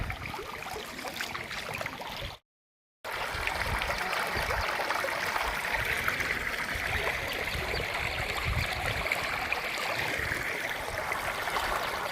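Rainwater rushes steadily through a market street after heavy rain, a loud continuous wash and gurgle with one brief dropout near the start.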